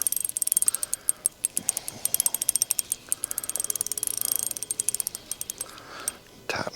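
A fishing reel's drag clicks in fast, irregular ratcheting bursts while a small black crappie is reeled in during late-February vertical jigging, close and crisp with no talk.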